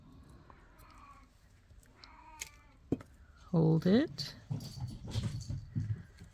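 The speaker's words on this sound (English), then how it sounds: "Sounds like one of my cats has the zoomies and the other one is screaming." A cat lets out a loud, drawn-out screaming yowl indoors, while other cats scamper around with soft thumps and a person speaks briefly nearby.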